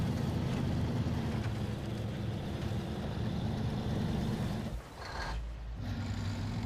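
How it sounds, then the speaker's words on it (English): Truck engine in the SnowRunner video game rumbles loudly and steadily, then abruptly cuts out for about a second as it stalls before the low drone returns. "Engine just stalling randomly."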